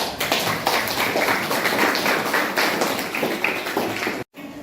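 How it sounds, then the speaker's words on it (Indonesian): Classroom applause from a group of students clapping their hands, a dense, steady patter of claps filling the room that runs for several seconds before cutting off abruptly. "Beri tepuk tangan"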